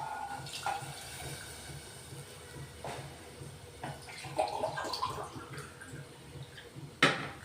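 Water poured from a glass into a pot for yellow khichdi: splashing and gurgling bursts come in several pours, with a sharper splash near the end, at moderate loudness with no talk.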